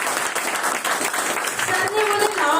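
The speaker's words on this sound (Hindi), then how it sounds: "मैं उनके लिए एक बार जोरदार तालियां चाहूंगा।" Audience applause at a gathering, dense steady clapping filling the whole stretch with a voice or music rising toward the end.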